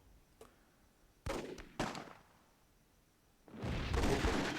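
Cannon fire booms in the battle game Myth II Soulblighter, with a faint pop followed by two sharp blasts in quick succession, then a longer, louder rumbling explosion.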